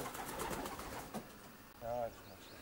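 A racing pigeon gives a short, throaty coo in a loft near the end, after a stretch of muffled rustling and a voice in the background.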